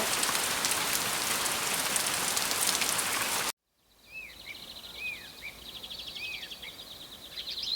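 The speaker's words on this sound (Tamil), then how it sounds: "அன்னைக்கு ராத்திரி முழுக்கவுமே மழை ஜோரா பெஞ்சுக்கிட்டு இருந்துச்சு" Heavy rain pours in a dense, loud, steady hiss for several seconds, then cuts off abruptly, leaving a quieter night scene with birdlike chirps and faint insect sounds.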